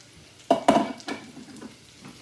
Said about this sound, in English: The smoked sausage is browning up nicely